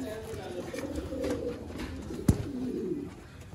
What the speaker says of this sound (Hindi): ये भी दोस्तों लाल चिड़ी शेखों वाले कबूतर है